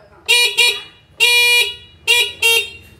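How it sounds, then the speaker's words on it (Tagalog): An NWOW EMC golf cart horn pressed in quick bursts, heard close and loud: two short toots, one longer honk, then two more short toots. "So hindi nawala yung busina natin dito."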